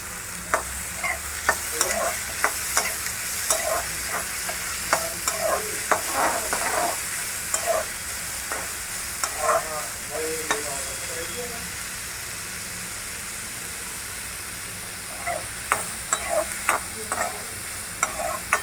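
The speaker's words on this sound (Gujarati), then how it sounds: "એ સાતળી જાય પછી એમાં આપણે ટમેટા નાખશું," Tomatoes sizzle and hiss as they are sautéed in a pan for sambar, with repeated close scraping stirs in irregular bursts over a constant frying crackle.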